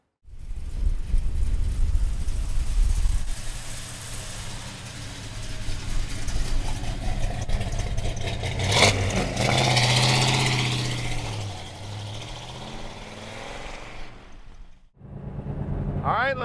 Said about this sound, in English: the exhaust on this car is perfect